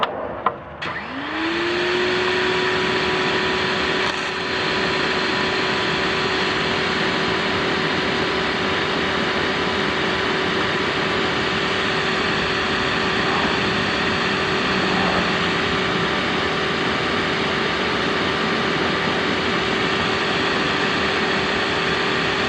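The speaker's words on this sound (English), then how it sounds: "This will be the electric power washer." An electric power washer runs at a steady high pitch with a constant hiss from the nozzle spray, loud and unbroken from start to finish.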